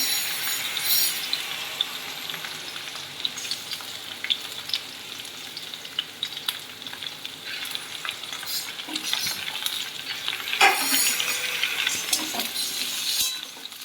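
Ridge gourd (jhinge) fries in a pan with a constant close sizzle, broken by the repeated scrape and clink of a spatula stirring, louder toward the end; no voices.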